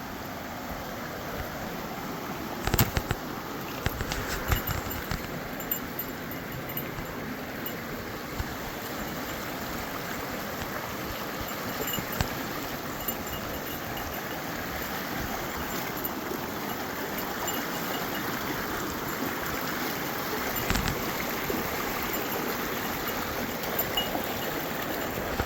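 A pack goat wades across a stream on a trail to a gold mine, with continuous rushing, burbling water close by and a few sharp splashes and knocks early on.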